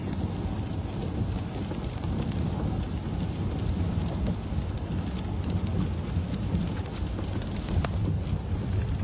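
A torrential downpour in Khon Kaen, Thailand keeps up a constant loud wash of rain, with deep rolling thunder underneath and a few sharper crackles near the end, and no voices.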